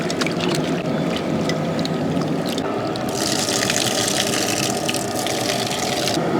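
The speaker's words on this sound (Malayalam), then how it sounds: "ചുക്ക് ചതച്ചതിന് ശേഷം നമ്മൾ ഈ ഉള്ളിയൊക്കെ ഒന്ന് കഴുകിയെടുക്കണം" Onions being washed in water for a large batch of Kerala-style nombu kanji, a steady rushing, splashing wash of running water throughout, close and fairly loud with no speech.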